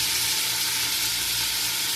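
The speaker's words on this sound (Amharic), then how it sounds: "ወደ ሽንኩርቴን በዚህ መልኩ ካቁላላሁ በኋላ በቀጥታ ቲማቲም እንጨምራለሁ ማለት ነው።" Onions fry in a heavy, lidded iron pot as tomatoes are added for a macaroni dish. A steady, close sizzle crackles throughout, alone and without talk.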